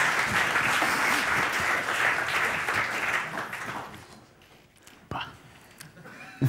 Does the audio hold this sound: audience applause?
yes